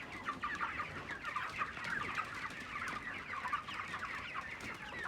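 Chickens on a poultry farm cluck continuously in a dense, fairly quiet chorus of overlapping calls, with no talk.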